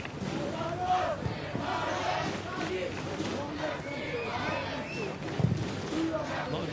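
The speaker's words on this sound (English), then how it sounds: "A lot of noise coming from the crowd on the far side." A football stadium crowd at a Red Bull Salzburg versus FC Bayern Munich match roars and chants from the far stands, a broad rolling wall of voices with a commentator talking over it.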